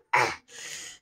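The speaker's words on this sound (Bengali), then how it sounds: "মুখে হাত দিয়ে কাশতে হয় বাবা" A child coughs twice in quick succession, a sharp close burst followed by a softer, breathier second cough, alone with no talk.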